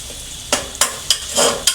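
Onions frying in a pan for chicken curry are stirred, giving five sharp scraping strokes over a continuous sizzle, close and fairly loud.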